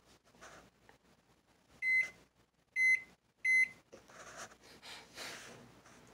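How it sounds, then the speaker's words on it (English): Three loud, evenly spaced microwave beeps ring out over a faint background hum, with soft breathing and rustling around them. "Microwave."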